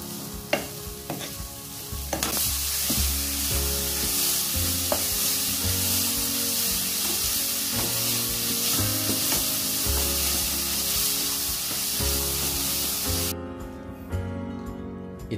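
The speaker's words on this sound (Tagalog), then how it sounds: "Ihalo lang natin ng mabuti hanggang sa magiging brown yung kulay ng shredded coconut." Shredded coconut and brown sugar are stirred in a pan while making biko with Cadbury chocolate powder, giving a steady scraping, sizzling stir with repeated spoon strokes, close and fairly loud, with low tonal background music throughout.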